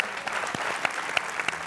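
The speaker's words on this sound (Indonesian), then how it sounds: "Tepuk tangan dulu untuk kita semua." A studio audience at a talk show breaks into brief, dense applause, a full burst of many hands clapping together.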